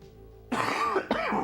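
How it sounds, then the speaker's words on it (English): A person coughs twice, close and sharp, after a moment of near silence. The second burst is a little shorter, and the sounds come close to throat clearing. "Apparently I just needed to cough."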